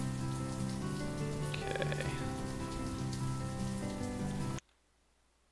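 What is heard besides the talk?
rain in the video game Banished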